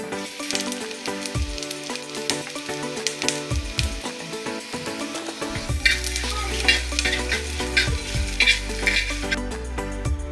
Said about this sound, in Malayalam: പിടിക്കുള്ള വെള്ളമൊക്കെ തിളച്ച് വരുന്നു